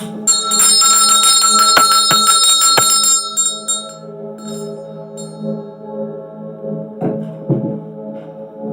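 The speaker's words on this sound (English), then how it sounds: "Me ring the bell." A small hand bell rung during a live tarot reading, several bright metallic strikes close up in the opening seconds, with ringing tones decaying and lingering afterward.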